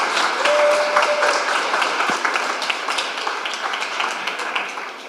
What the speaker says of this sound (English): A round of applause for Shafi.